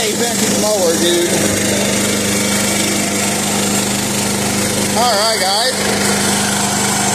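A 1976 John Deere 300 lawn tractor engine runs steadily at throttle, a loud continuous drone that fills the whole clip while someone speaks briefly over it.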